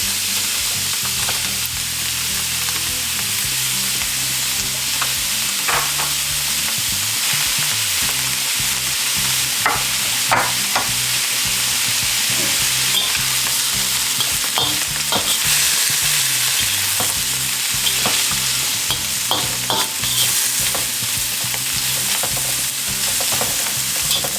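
Carrots, celery, onions and corn being stir-fried in a pan, with a loud, steady sizzle throughout and frequent scraping and clattering of a utensil stirring the vegetables.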